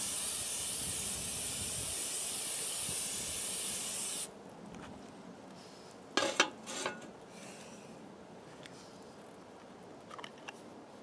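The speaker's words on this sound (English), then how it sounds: "So I guess we have to do it the modern way, the spray-on butter." Spray-on butter from an aerosol can hisses in a steady, loud burst for about four seconds over a campfire breakfast beside an off-grid truck camper, then stops, followed by a few sharp clinks of pans and utensils.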